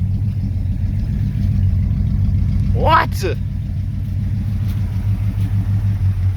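An old Dodge engine, just fitted with a budget replacement carburetor, idles with a steady, loud low rumble that continues throughout, while a voice briefly speaks over it near the middle.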